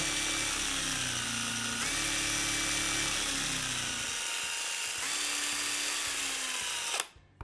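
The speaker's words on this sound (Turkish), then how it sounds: "Tekrar bastığımda yani led buradaki led yandığında da daha yüksek tork oluyor" A cordless two-in-one high-torque drill whines steadily close up in its higher-torque setting, a continuous motor hum with shifting pitch for about seven seconds before cutting off abruptly.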